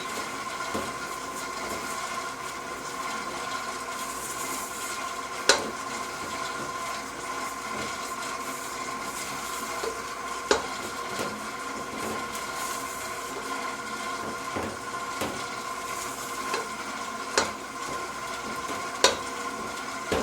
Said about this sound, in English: Just smash it all together and make sure that you're also scraping everything.